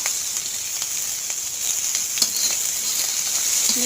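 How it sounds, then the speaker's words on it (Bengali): Onion and chili frying in hot oil, a steady dense sizzle with faint crackles throughout, fairly close and alone. "একটু নাড়াচাড়া দিতে হবে, হালকা ভাজা ভাজা করে নিতে হবে পেঁয়াজটাকে।"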